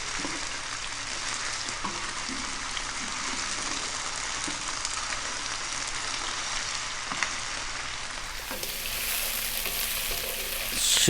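Chicken and vegetables stir-frying in a pan for a Chinese chicken dish, giving a steady, close sizzle and crackle throughout with no one talking, the sound brightening and growing slightly louder toward the end.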